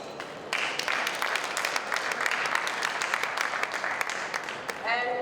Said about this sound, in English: A round of applause for Wafa,